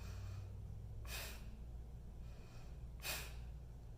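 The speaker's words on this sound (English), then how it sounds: "Kapalbhati is a regular inhale and then a forceful exhale." Two sharp, forceful nasal exhales of kapalbhati breathing, spaced about two seconds apart, close and breathy over a quiet room hum.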